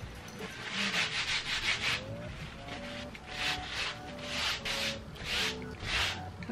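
A rag rubs excess oil paint off a canvas in a run of rhythmic, close scrubbing strokes, each a soft swishing burst, with a faint tonal squeak sliding underneath.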